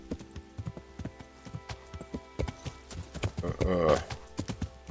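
Hooves clip-clop in a steady galloping rhythm from a horse in the medieval video game Kingdom Come: Deliverance, with a brief louder whinny-like burst near the end, set against faint background game ambience.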